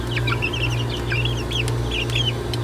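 Chickens cluck in a coop in a rural Canadian yard during winter, a busy overlapping chatter of short calls under a steady low hum.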